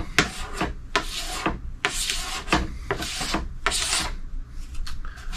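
A plastic scraper strokes wax off a snowboard base in about seven rough, rasping passes with short pauses between them, close and clear, with no talking.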